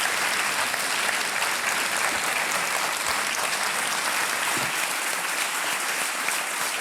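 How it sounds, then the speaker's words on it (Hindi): Studio audience on the KBC quiz show applauds in a continuous, dense wash of clapping that holds steady throughout at moderate loudness. "जोरदार तालियां बज जाए इनके लिए, क्योंकि चेक आ रहा है आपके नाम जानने जी।"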